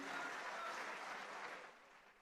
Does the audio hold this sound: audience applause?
yes